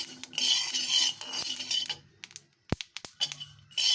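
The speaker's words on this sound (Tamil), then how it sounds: "கேட்குதுங்களா? எல்லாமே பொரியும், வேர்க்கடலையும் பொரியும், அந்த எள்ளும் பொரியும்." Peanuts and sesame seeds dry roasting in a pan for traditional simli give off scattered crackling pops and clicks, with scraping as they are stirred, loud at first and then in sparser bursts.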